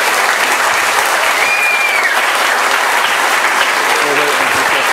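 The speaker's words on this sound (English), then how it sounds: "a huge, huge round of applause for everyone" Applause for everyone at a closing ceremony: dense, sustained clapping from a large crowd fills the whole stretch at steady loudness, ending abruptly at the close.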